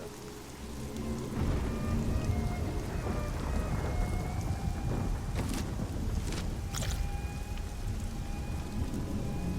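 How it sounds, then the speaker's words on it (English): Steady heavy rain pours throughout a stormy Diablo III game scene, with sharp crackling thunder strikes breaking through near the middle and rolling on behind the downpour. "I think it's the thunder."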